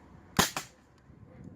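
A marble-firing bird gun goes off outdoors with one sharp, loud crack, then a softer second snap just after it, and quiet follows.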